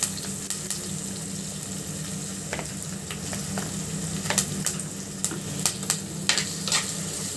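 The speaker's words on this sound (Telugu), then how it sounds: "అల్లం వెల్లుల్లి పేస్ట్ వేస్తున్నాను" Ginger garlic paste frying in a pan, a steady sizzle broken by scattered sharp crackles and stirring clicks, close and moderately loud.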